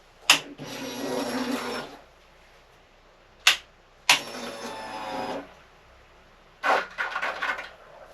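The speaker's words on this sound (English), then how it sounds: "Fuel pump. I'll give that a couple of goes." BMW 1150 GS motorcycle fuel pump priming with the ignition on, giving three separate whirring bursts of a couple of seconds each with short pauses between, fairly close and with no talk.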